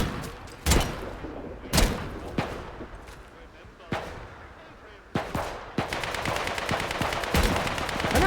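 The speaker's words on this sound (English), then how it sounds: "What the heck are they shooting at?" Gunfire echoes as outlaws and protocol soldiers clash in Atomfall, sharp single shots spaced irregularly, then a rapid volley near the end, with talking heard in between.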